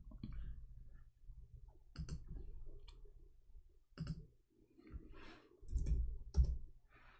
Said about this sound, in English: let me type it for you